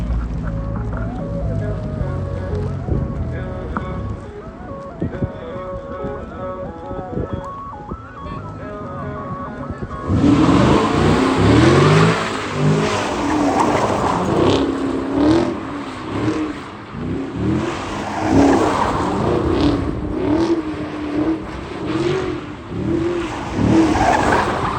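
A Chevrolet Camaro slides with a long, loud tire squeal and skid over steady engine roar, the squeal growing harsher and fuller midway and holding close and continuous to the end.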